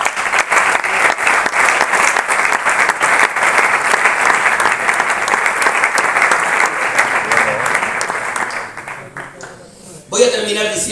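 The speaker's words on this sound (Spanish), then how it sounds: "Fuerte aplauso para el Señor." A church congregation applauds loudly and steadily, a dense wash of clapping with voices mixed in, thinning and fading near the end before a brief burst returns.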